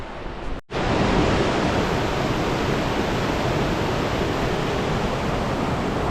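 A mountain river near Mount Rainier rushes loudly and steadily close by, a constant roaring wash that cuts in after a brief dropout at the start.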